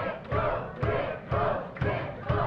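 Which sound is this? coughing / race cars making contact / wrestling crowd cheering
wrestling crowd cheering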